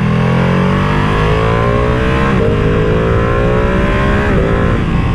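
A 2023 Ducati Panigale V2 Bayliss motorcycle on its stock tune accelerates hard. The engine roars loud and close without a break, its pitch climbing and then dropping back at two gear shifts before rising again.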